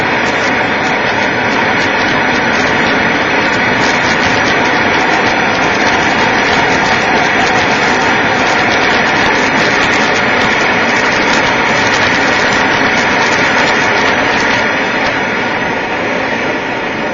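A pressurized kerosene stove burner roars with a hot blue flame, a loud, steady, unbroken rushing hiss close up that holds without change throughout.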